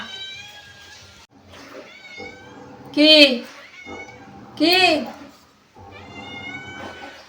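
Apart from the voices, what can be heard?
cat meowing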